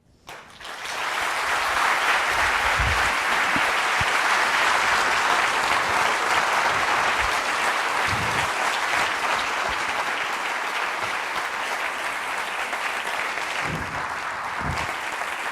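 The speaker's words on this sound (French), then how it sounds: "applaudissez pas trop" An audience at an economics conference claps after a talk ends, a thick, sustained wash of applause that swells quickly and holds steady for around fifteen seconds, tapering only slightly.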